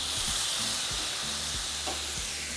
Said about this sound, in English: Here we're going to add our salsa.